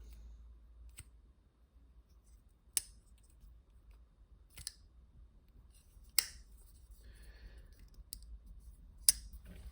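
Divo Knives Pony Stout pocket knife being flicked open and shut, giving about six crisp isolated clicks and snaps spaced a second or two apart, close and fairly quiet against near silence.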